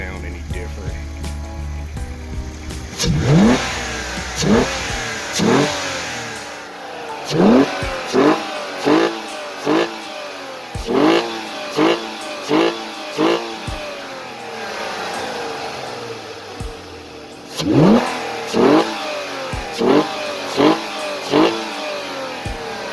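An MK2 Audi TT Quattro with a ported throttle body is revved repeatedly at idle, each sharp rise and fall of the engine close and loud over a steady background rumble.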